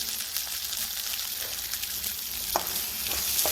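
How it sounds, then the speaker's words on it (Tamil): Spices and chilli powder sizzle steadily in a hot pan, with occasional scrapes from stirring. "போட்டு நல்லா வதக்கிங்க"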